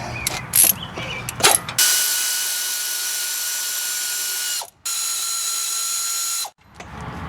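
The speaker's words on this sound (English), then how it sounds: "I'm going to use my air ratchet on the back side and remove them" A few short air-tool bursts, then a loud, sustained high-pitched pneumatic air ratchet whine removing brake caliper bolts on a Nissan Rogue, briefly cut twice before stopping; no speech.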